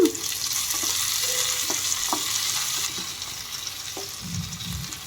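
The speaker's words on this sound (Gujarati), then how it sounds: "જો આપણે 1 મિનિટ થઈ ગઈ છે તો હવે એને હલાવી લેશું" Grated bottle gourd sambharo frying in a pan is stirred with a spoon, giving a continuous bright sizzle broken by soft scraping knocks, easing slightly in the second half.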